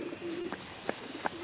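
Pigeons coo softly in a Final Destination 2 film scene, a low steady murmur with a few brief brighter calls and flutters mixed in, faint and continuous over background ambience.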